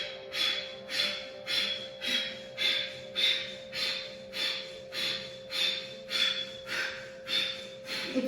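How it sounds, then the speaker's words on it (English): Kapalabhati breath of fire during a yoga session: about fourteen rapid, forceful nasal exhalations in a steady rhythm, close and fairly loud, over a faint constant hum. "We're gonna do a Kapalabhati breathing here."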